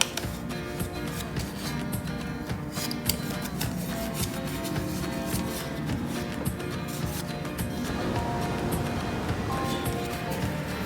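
A paper pop-up greeting card in the shape of a tiger, frog or bird is folded outward and creased by hand, giving a steady close rustling and rubbing of paper throughout with no voices.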